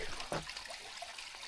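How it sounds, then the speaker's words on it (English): A small brook trickles faintly and steadily outdoors, a soft continuous wash of running water with no voices. "Little brook there."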